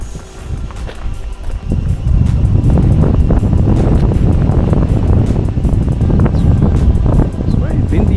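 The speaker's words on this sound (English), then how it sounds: "It's very windy here." Strong wind buffets the microphone at Oberon Dam on an Australian motorcycle tour, a loud, continuous low roar that swells after the first two seconds and stays heavy throughout.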